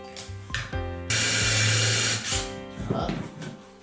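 A power drill boring a counterbore hole in wood with an 8 mm stepped bit, whirring in short bursts and then one longer sustained drilling run, mixed with someone talking nearby.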